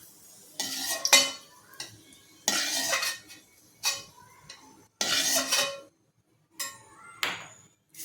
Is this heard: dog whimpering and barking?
no